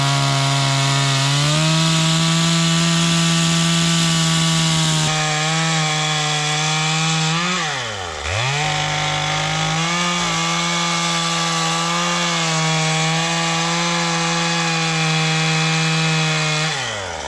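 A chainsaw with a slightly dull blade cuts through wooden fence posts during a ranch fence installation, its loud steady engine drone running nonstop with a brief dip in pitch midway as it bogs in the wood.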